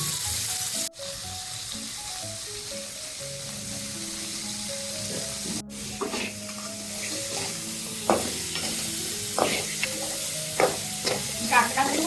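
Crab pieces frying in a pan with a little salt, steady sizzle under repeated scraping stirs that grow sharper and more frequent toward the end, close by with no talk.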